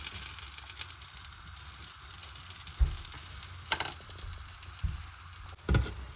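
Ragi dosa sizzles steadily in oil on a hot pan, a continuous soft crackling hiss with a few brief louder taps and scrapes, close and alone with no talking.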